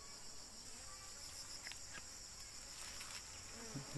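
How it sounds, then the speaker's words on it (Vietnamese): A four-frame honeybee colony, fed after its honey harvest, gives off a steady, faint, dense insect buzz with a few soft ticks and rustles and no talking. "Con ong nó bắt đầu ăn đấy."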